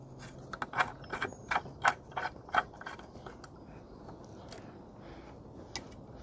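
Screws being turned into a streetlight fixture on its pole give a series of faint ratcheting clicks and small creaks, clustered early and then thinning out.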